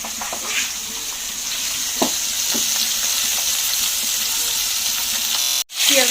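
Fish frying in a large wok: a loud, continuous oily sizzle with a few soft stirring knocks, cutting off abruptly for a moment near the end before resuming.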